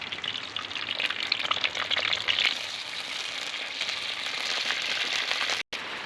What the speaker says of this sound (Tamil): கத்திரிக்காயை எண்ணெயில் பொரித்து எடுத்துக்கிடுவோம்.